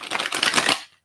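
A deck of playing cards riffles in one chunky, close shuffle, a dense rapid flutter that builds and then cuts off abruptly into silence.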